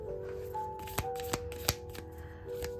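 Tarot cards being shuffled close up, a soft continuous riffle broken by a few crisp snaps, over a faint steady hum and with no speech.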